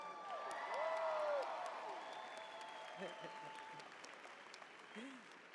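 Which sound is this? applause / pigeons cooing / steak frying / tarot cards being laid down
applause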